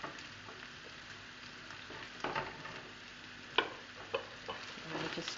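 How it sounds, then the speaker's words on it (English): Peanut butter is stirred into a biltong stew in a pot, giving a soft, faint simmering hiss broken by a few light scrapes and clicks, with no voices. "Just stir that in."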